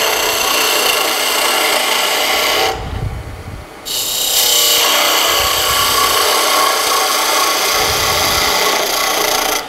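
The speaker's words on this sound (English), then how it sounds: "I'm just going to take away quite a bit of wood here" A gouge cuts wood on a lathe while turning a toy top, a loud continuous rasping scrape that breaks off briefly near the start and then resumes, with no talk.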